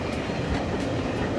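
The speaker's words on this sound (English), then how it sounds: "The Leicester to Loughborough train is just heading off now." A heritage train on the Great Central Railway pulls away on the Leicester to Loughborough run, a steady loud rumble of wheels and rolling stock with faint rhythmic clatter and no voices.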